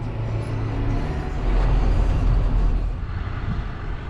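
A farm tractor engine runs steadily with a deep low rumble, swelling louder for a moment midway before easing back, alone with no talking.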